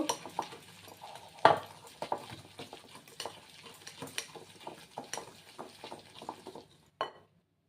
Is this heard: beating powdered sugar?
yes